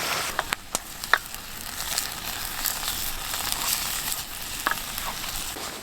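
Onions frying in a hot pan over a camp stove inside a propane-heated tent, a soft continuous sizzle with a few sharp crackles and pops near the start.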